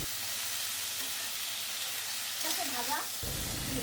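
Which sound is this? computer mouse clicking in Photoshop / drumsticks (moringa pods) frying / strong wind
drumsticks (moringa pods) frying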